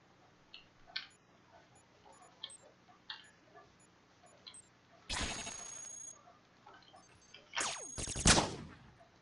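Gunfire in the robot combat video game Cogmind starts with scattered soft ticks, then breaks into two loud bursts of rapid shots, the second heavier and longer, each close and alone.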